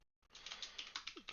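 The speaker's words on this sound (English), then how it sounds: "If we start typing out" Quick, close keystrokes clatter on a computer keyboard in a short, uneven burst of clicks after a moment of silence.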